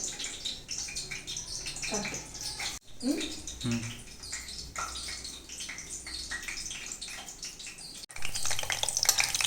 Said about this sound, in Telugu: వంకాయల్ని ఇప్పుడు ఇలా ఫ్రై చేసుకుంటున్నాను.